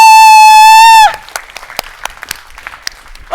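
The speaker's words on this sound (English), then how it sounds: "everyone applaud" Applause from a conference audience breaks out after a loud sustained electronic tone, continuing as scattered, moderately loud clapping with a few sharper claps.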